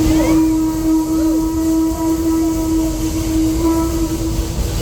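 Passenger train paused at the top of Bear Mountain, with a steady loud hum and rumble of the rail cars and engine and a faint squeal now and then. A voice can be heard faintly underneath.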